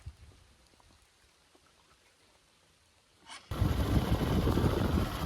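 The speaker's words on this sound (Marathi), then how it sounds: "आता पाऊस यायला लागलाय दुपारचाच" Faint light drops patter at first, then rain suddenly swells into a loud, close, steady hiss for the last couple of seconds.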